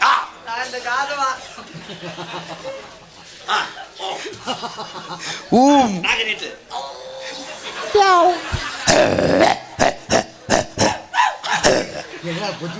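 A person barks and growls in imitation of a dog amid lively talk and chuckling, with several loud, strained yelping bursts standing out from the chatter, recorded close.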